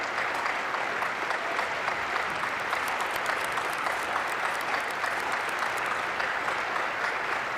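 Applause from an inauguration crowd for a pipe band, a steady even wash of clapping that carries at moderate level across the whole stretch, somewhat distant and with no voices standing out.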